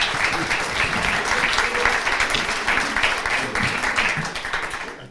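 An audience at a conference applauding, with dense continuous clapping held at an even level for several seconds before it tapers off at the end.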